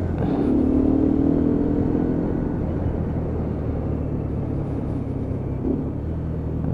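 A Lexmoto Venom 125cc motorcycle engine blips and settles as the rider rev-matches a downshift, a loud steady engine drone with a brief rise early and a small second blip near the end, no voices.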